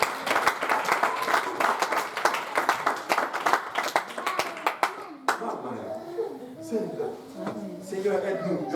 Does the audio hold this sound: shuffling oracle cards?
no